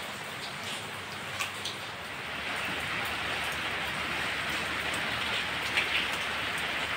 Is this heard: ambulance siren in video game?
no